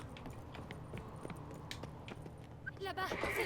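Hooves clip-clop at a quick pace in The Witcher 3, with voices talking in French over them and a rising swell of sound near the end.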